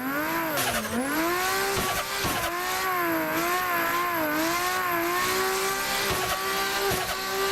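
Simulated car in the Assetto Corsa racing game drifting through corners, engine whining and rising and falling, with tires squealing in long continuous bursts across the whole stretch.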